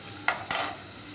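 Misal masala stir-fried in a pan for misal pav, with a soft steady sizzle and two brief scraping stirs close by, the second louder.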